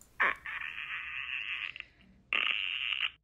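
Clicker creature sound effect for a TV show, meant as inquisitive searching: a raspy, rattling vocal croak sustained for over a second, a brief pause with faint sounds, then a second shorter rasp, close and alone.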